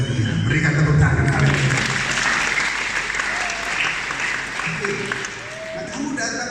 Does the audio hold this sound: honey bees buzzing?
no